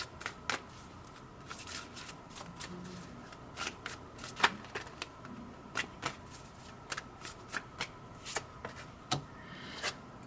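Tarot cards are shuffled by hand and drawn from the deck, giving a quiet series of crisp riffling snaps and soft card flicks at irregular intervals over a low, steady room hiss.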